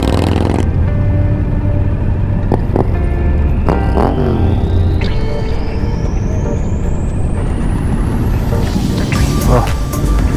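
Several motorcycles ride together at a BMW Motorrad season-closing gathering, a steady loud engine rumble with passing vehicles, a rising whine and occasional brake hiss, while people talk over it.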